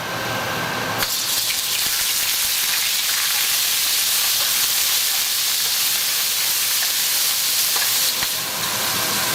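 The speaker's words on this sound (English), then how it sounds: "So to the oil we're gonna add the garlic and the onion mix." Garlic and onion mix hitting hot vegetable oil in a wok, a loud, steady close-up sizzle that fills the whole stretch without pause.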